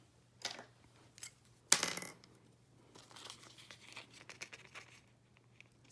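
Scissors cut through sticker paper during bible journaling, giving a quiet sequence of crisp snips and papery rustles with one sharper crinkle and a low steady hum beneath.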